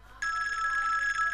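A telephone bell starts ringing abruptly and continues as a steady, bright, trilling ring.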